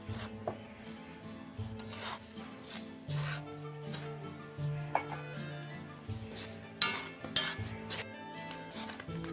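Black peas being dry-roasted in a pan, a scraping, rattling stir with irregular clinks and rubs of the spatula against the metal, close and moderately quiet, with no talking.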